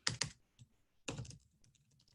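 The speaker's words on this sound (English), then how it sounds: "So I'll type that out" Keystrokes on a computer keyboard come in two quick bursts, a pair of taps and then a rapid cluster about a second later, close and clear with no talking.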